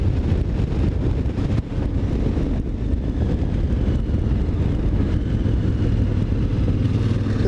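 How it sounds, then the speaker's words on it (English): Strong wind buffets the microphone outdoors with a continuous low roar and rumble, loud and unbroken throughout. "that was windy"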